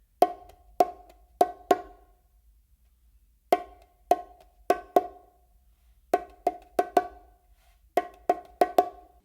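Bongos played with four open tones and soft ghost notes slipped between them: sharp bright strikes in repeating clusters of about four, separated by short pauses, close and dry with no talk.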